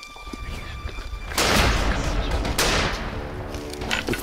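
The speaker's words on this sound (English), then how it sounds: "With two perfect shots, our hunter succeeds in killing the strong bull." Two powerful rifle shots ring out during a Cape buffalo hunt in the South African bush, each a sharp, loud blast about a second apart with a lingering echoing rumble.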